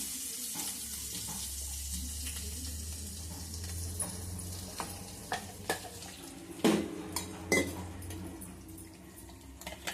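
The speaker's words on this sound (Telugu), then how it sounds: "కాలుతుంది కాబట్టి నేను ఒకేసారి వాటర్తోనే పోసేద్దాం అనుకుంటున్నాను." Water tipped into a hot pan while cooking paneer curry, giving a steady running pour with some clinks and scrapes of cookware near the end.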